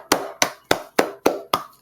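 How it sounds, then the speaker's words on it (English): Six sharp hand claps in a steady, even rhythm, each crisp and close with a short decay, with no voices. "Clap it up."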